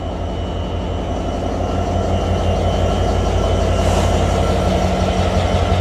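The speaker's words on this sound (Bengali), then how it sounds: "এই হচ্ছে ইঞ্জিন। এটা হচ্ছে আমেরিকান লোকোমোটিভ" American-built Bangladesh Railway locomotive 6617 runs close by, a loud, steady engine drone with a low throbbing pulse that holds for the whole stretch.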